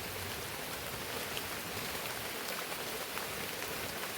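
Steady heavy rain falls at a campsite, a dense even hiss of drops on surfaces all around, loud and unbroken with no talking.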